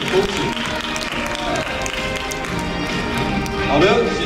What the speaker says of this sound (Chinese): 恳请各位观众给我们最热烈的掌声